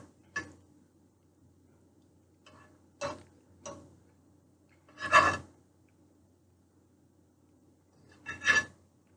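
A utensil scrapes across a pan while a ham breakfast scramble cooks, about five separate rasping strokes, short and distinct, spaced by quiet gaps, the last two louder.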